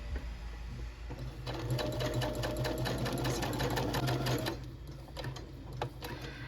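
A sewing machine fitted with a twin stretch needle hems knit fabric, its motor whirring and needle clattering in a fast steady rhythm that speeds up through the middle, then slows and stops in short bursts.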